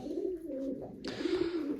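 Pet pigeons cooing close by in a low, rolling murmur, with a brief rustle or flutter partway through.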